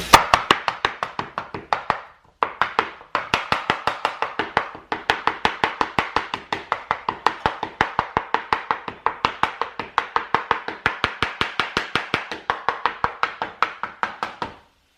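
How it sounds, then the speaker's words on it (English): Quick, steady knife chops through meat strike a cutting board in a rapid rhythm, pausing briefly once, close and sharp with no talking. "maximum amount of meat you're chopping through in one chop"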